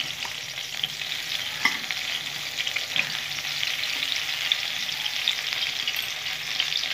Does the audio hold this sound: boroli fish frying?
yes